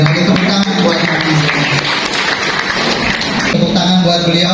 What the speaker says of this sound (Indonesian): Sekali lagi tepuk tangan buat kami